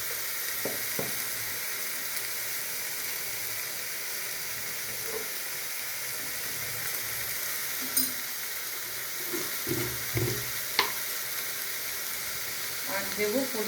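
Mushrooms frying with spices in a pan give a steady, soft sizzle and hiss throughout, with occasional light clicks and stirring scrapes.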